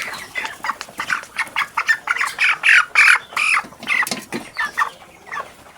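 A broiler chicken, about 1300 grams and 22 days old, squawks loudly and repeatedly as it is caught on a farm, with harsh close calls coming in a rapid, uneven series.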